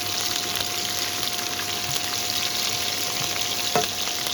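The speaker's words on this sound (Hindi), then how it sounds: "इन चीज़ों में हम डाल लेंगे पहले ही ग्रीन चिलीज जो है इनको हम अच्छे से फ्राई कर लेंगे।" Green chillies sizzle steadily in hot oil in a home kitchen pan, a soft even crackle with a brief stir or clink near the end.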